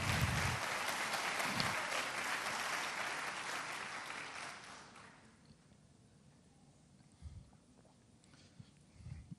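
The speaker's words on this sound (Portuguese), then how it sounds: "eu acho que merece uma salva de palmas para esse Jesus" A church congregation breaks into applause during a sermon. Dense clapping runs for about five seconds and then fades to a quiet room, where a few isolated thumps and shuffles follow.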